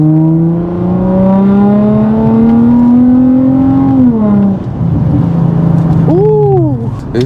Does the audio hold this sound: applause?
no